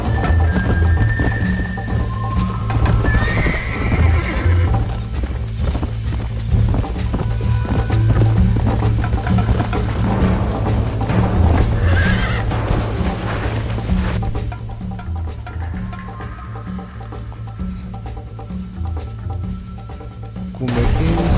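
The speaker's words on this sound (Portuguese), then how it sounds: "Sou horrível pra andar com esse cavalo." Horse hooves clip-clopping at a gallop in the Red Dead Redemption video game, a continuous rapid drumming beat with occasional whinnies, loud and close, easing slightly in the last few seconds.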